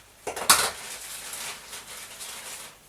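A utensil scrapes and clinks against a pan while butter is stirred to keep it from burning, a few quick metallic taps and scrapes followed by softer steady stirring, close and alone.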